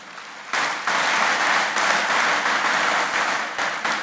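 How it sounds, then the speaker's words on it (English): Applause at a residence and belonger status certificate ceremony, a steady burst of crowd clapping that starts abruptly and holds at an even, fairly loud level. "Give her a round of applause."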